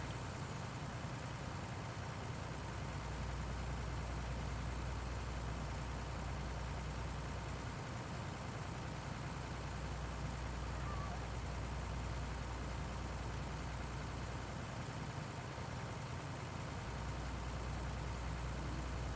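A tractor engine idles in Farming Simulator 19, a steady low rumbling drone that holds evenly throughout with faint dips in the deep hum and no talk.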